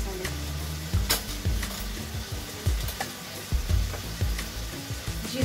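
Chopped tomatoes and dry spices fry in a hot pan, giving a steady sizzle broken by repeated scraping stirs of a spoon against the pan, close and even throughout.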